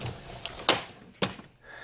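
A drawer slides open in a tool cabinet holding an airbrush and painting supplies, giving two sharp, close clacks about half a second apart against a low background.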